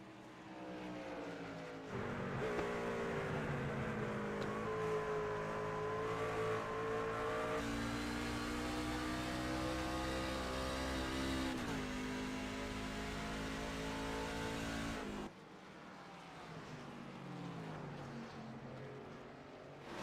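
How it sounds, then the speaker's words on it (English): Race trucks in a Performance Motorsports Truck Series championship race howl through a corner, engine pitch climbing and dropping with repeated gear shifts, loud and close as if on board, with a sudden cut near the end. "You can hear him going through the gears and messing with that"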